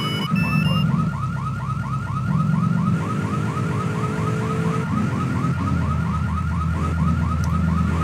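A car alarm in GTA 3 wails in a repeating, looping pattern of rising tones, loud and steady throughout, with engine rumble and traffic noise beneath.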